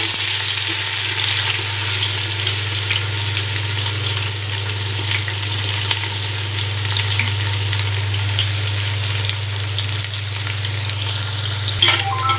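Chopped onions, six medium-sized, sautéing steadily in hot oil for mutton dum biryani, a continuous close sizzle with faint stirring scrapes and a low steady hum beneath.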